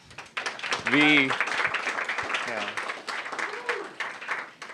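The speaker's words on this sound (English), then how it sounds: "if you could give a round of applause" A round of applause at a hackathon day-one summary gathering, a dense steady clatter of clapping from an audience lasting several seconds, with a voice speaking briefly over it near the start.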